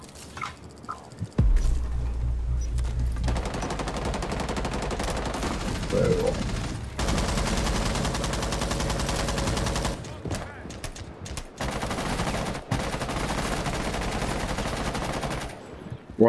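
Rapid bursts of automatic gunfire from a Rainbow Six Siege match ring out loud and near almost without pause, with short gaps and a brief dropout, while players talk over the shooting.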